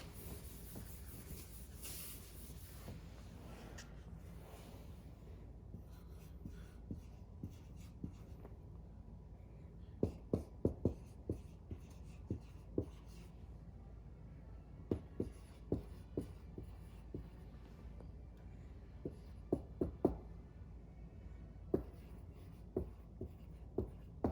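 Chalk or marker tapping and scratching on a board while someone solves log-condensing algebra, short sharp strokes in irregular clusters, most dense in the second half, over a faint steady room hiss.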